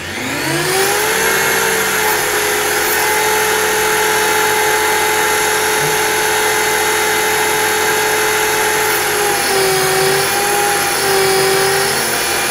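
A 550X RC helicopter's electric rotor spins up to a loud, steady high whine with a strong tonal hum, holding pitch for a sustained stretch before a slight dip and recovery near the end.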